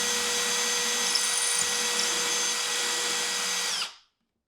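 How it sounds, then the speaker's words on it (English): A power drill countersinks a screw hole in cabinet wood for a knob, with one continuous, loud, close whine that holds steady for about four seconds before stopping abruptly. "I need to actually countersink the screw head for the knob"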